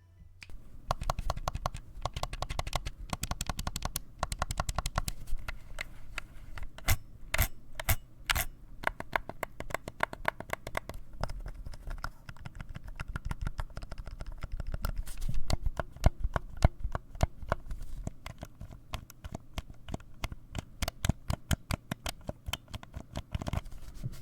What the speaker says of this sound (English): the G1 is pretty generic and sounds the way I expect a membrane controller to sound